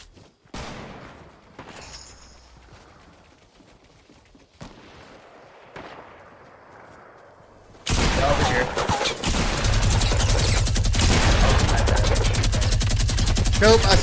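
An LMG fires in Fortnite Battle Royale, loud sustained rapid automatic bursts that begin after a quieter stretch of sparse sounds and then run continuously to the end.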